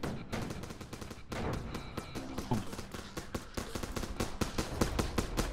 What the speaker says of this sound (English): those are my bullets shooting at you